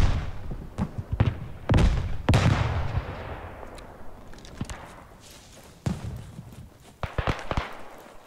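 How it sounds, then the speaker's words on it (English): Artillery shells slam down in the WWI shooter Beyond The Wire on the Chateau-Thierry map, a string of sharp, booming blasts with long rumbling tails, some near and heavy, others more distant, spread irregularly across the battlefield. "Yeah, artillery."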